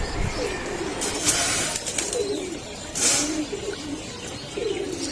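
Pigeons on a rooftop loft where young birds are kept coo repeatedly in soft, rolling bursts, close by, with a light hiss and faint rustling between the calls.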